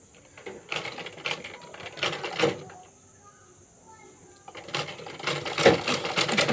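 A sewing machine runs in short bursts while stitching a saree, its fast rattling pulses broken by a pause in the middle, with a voice talking intermittently over the mechanism.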